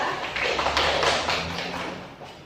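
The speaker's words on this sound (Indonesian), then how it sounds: "Beri aplaus untuk kelompok 2." A classroom group claps for student presenters in a micro-teaching lesson, a short burst of scattered, overlapping hand claps that swells and then fades over a couple of seconds.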